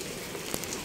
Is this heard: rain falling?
yes